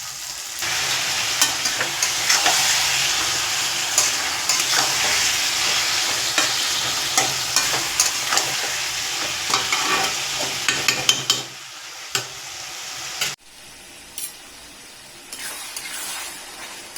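Fried onions and chopped tomato sizzle in a pan for a spicy chicken liver and potato dish, a loud, continuous frying hiss with repeated stirring clicks that drops away sharply near the end, no voices.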